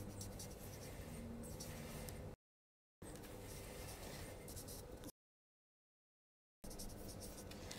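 Pen or marker scratching on paper pattern pieces for a sewn dress, steady writing strokes in two separate bursts split by silent gaps, close and fairly quiet, with no talking.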